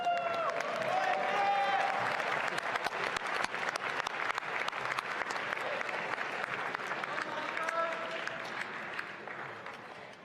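Sustained applause from a convocation audience for graduating students, many hands clapping in a steady roar with a few scattered cheers and voices mixed in, gradually thinning near the end.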